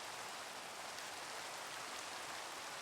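Steady rain falls in a multiplayer survival video game, a dense, even hiss of drops with no breaks, quiet and alone with no voices.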